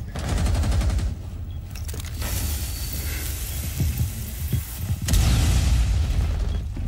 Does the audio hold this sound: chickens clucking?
no